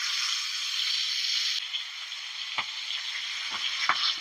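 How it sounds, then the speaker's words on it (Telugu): Chicken drumsticks fry in hot oil, a steady close crackling sizzle with a few sharper pops and spits as pieces settle. "ఇక ఇట్లా మెల్లగా పెట్టాలి, నూనె చిచ్చుతుంది"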